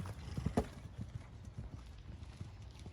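A horse cantering during a riding lesson with lead changes, its hoofbeats a steady rhythmic thudding at moderate distance, with one sharper burst early on.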